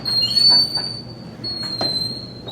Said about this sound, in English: What a squeaky door.